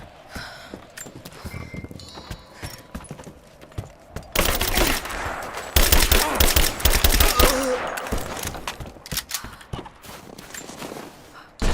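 Gunfire in the video game Rise of the Tomb Raider: sparse distant shots at first, then dense, loud bursts of rapid automatic fire and impacts that go on for several seconds before easing off.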